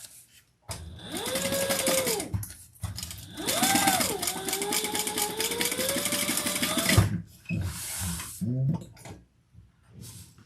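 A home sewing machine runs in several bursts at shifting speeds, its motor whine rising and falling, with pauses between runs and a faint voice in the background.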